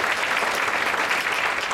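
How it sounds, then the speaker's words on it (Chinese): A room of teachers at a physical education training workshop claps for Professor Lin after a lecture, a dense, steady round of applause that stays loud and even from start to finish. "那最后我们是再一次掌声，谢谢林教授"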